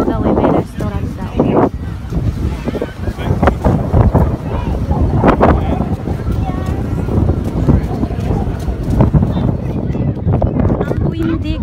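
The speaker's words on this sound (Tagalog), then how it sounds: "Ang windy, grabe siya oh." Strong wind at a waterside campsite, with kayaks out and people fishing, buffets the microphone in loud, continuous gusts while people talk nearby.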